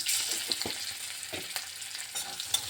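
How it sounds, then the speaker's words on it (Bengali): Green chillies, nigella seeds and asafoetida powder fry in oil in a pan, giving a soft, steady sizzle with light crackles and a few quiet stirring scrapes. "ভালো করে লঙ্কা কালো জিরে ভেজে নিয়েছি"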